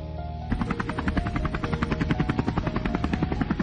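A helicopter in the Bhai the Gangster video game spins up, settling into a loud, fast, rhythmic rotor chop that holds steady and close.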